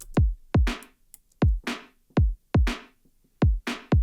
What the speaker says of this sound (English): Get a snare in on the 2 and 4.